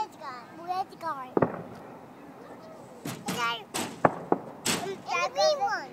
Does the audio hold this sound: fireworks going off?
yes